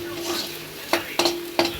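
Potatoes and beaten egg fry in a pan while being stirred, a steady close sizzle broken by three sharp scraping strokes near the end.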